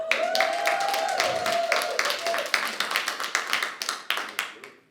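A comedy club audience claps, first as a dense burst and then as scattered, separate claps that taper off, with a voice calling out over the start.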